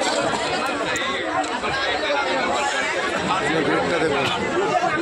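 Constant babble fills a packed Shipra Express train from Howrah bound for the Kumbh Mela at Prayagraj, with many passengers talking at once, close and loud, amid carriage noise.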